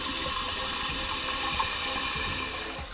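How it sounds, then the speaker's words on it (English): Water runs into a toilet tank as it refills after the supply is turned back on, a steady rushing fill from a faulty fill valve that holds an even level for the whole stretch without talk. "Turn the water back on and fill the tank."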